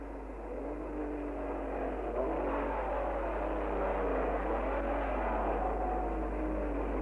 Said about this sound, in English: World Championship by 4 points from Brooks, took the lead as the pack charged towards Waterways Corner.